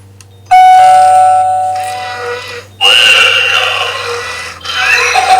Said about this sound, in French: Et en fait, c'est une sonnette de porte.